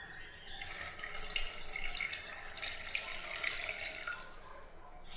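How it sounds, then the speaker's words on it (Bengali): Water poured into a pressure cooker for a chana paneer recipe, a continuous close splashing stream running for several seconds without a break. "দিয়ে দিচ্ছি 2 কাপ পরিমাণে জল"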